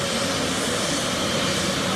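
An Embraer 190 jet with General Electric CF34 engines departs Coffs Harbour Airport, a loud, steady broadband roar heard close by for a couple of seconds, with no voices.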